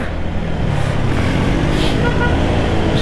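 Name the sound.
heavy road traffic noise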